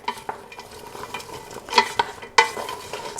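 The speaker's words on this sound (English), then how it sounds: "Give it another stir." A spoon stirs tomato soup with carrots in a pot, giving a series of close scraping strokes and a few sharp clinks against the pot over a faint simmer, with no talking.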